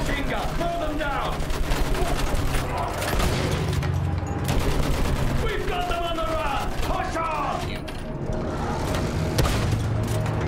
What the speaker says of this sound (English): Use that machine gun.